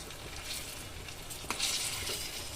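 Palm fritters made from palm fruit pulp fry in hot oil with a steady, bright sizzle, and a sharp stirring clatter joins near the middle before the bubbling carries on, close and alone.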